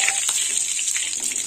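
Bay leaf and dried red chilli sizzle in hot oil, tempering for a bitter gourd dal of mung and masoor lentils; a steady, bright hiss with small crackles runs through, close and moderately loud.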